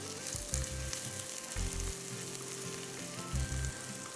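Onions frying with whole garam masala in a pan for vegetable biryani, a continuous close sizzle beneath steady background music with no talking.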